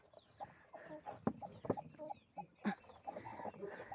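Hens in a backyard henhouse clucking in short, irregular bursts with a few sharper squawks, close by and moderately loud, with no speech.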